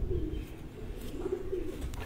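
Large, heavily built pigeons coo in a low, continuous murmur at a home loft, the soft rolling calls overlapping steadily with no voices.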